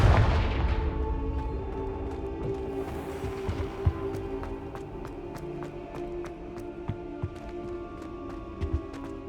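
A Confringo fire spell bursts in the Hogwarts Legacy video game, a loud booming blast at the start that decays into a rumbling tail, followed by scattered sharp crackling impacts over a steady low game hum.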